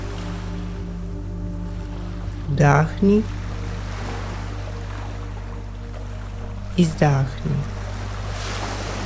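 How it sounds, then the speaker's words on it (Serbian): Calm ocean surf rolls in as a soft, continuous washing bed behind a guided relaxation session, with a low steady hum underneath. A voice speaks two short cues over it. "Slušaj njihov umirujući, ritmičan šapat. Ritam talasa je ritam tvoje intuicije"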